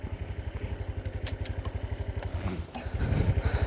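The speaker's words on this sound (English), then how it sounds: "It's just so easy on a cub to spin it around and go somewhere else." A Super Cub motorcycle's small single-cylinder engine putters in a steady, fast rhythm as the bike turns around on a muddy green lane, close and loud, with a few clatters and a brief revving surge near the end.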